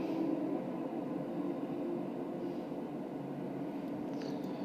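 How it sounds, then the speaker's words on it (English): A Bakerloo line Underground train in a train-driving game runs at steady speed, a continuous loud rumbling drone of wheels and motors with no breaks. "Yeah, half the enjoyment of riding a train like this is what it sounds like."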